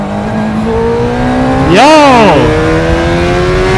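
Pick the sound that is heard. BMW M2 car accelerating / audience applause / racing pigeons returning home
BMW M2 car accelerating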